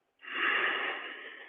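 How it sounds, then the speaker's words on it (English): A slow, steady exhale during a breathing exercise in a workout: a soft, airy rush of breath that swells quickly and then tapers gently, close to the microphone, with no talking. "And then let the air out."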